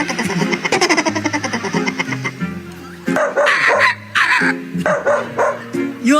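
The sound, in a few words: comedian imitating a dog barking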